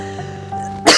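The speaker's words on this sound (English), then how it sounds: "Yeah, it's just his cough. It won't go away." A man's sudden, harsh cough bursts out at the end of a short quiet stretch, loud and close, preceded by faint low background hum.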